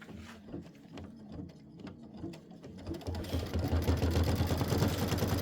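An embroidery machine stitches the outline of a fabric cuff, starting with rapid clicking, ticking needle strokes and then settling into a louder, steady mechanical whirring chatter, close and without talk.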